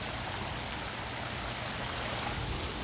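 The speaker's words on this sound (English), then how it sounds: "So pondless waterfall here, the real small pondless waterfall." Water pours steadily over a small pondless garden waterfall, giving a dense, continuous splashing rush close by with no pauses.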